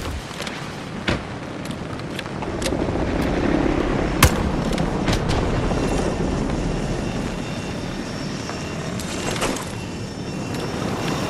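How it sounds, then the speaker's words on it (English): In Battlefield 2042's orbital extraction hazard zone, an extraction aircraft descends with a steady, roaring engine rumble, punctuated by scattered sharp cracks and bangs. "Extraction aircraft descending now."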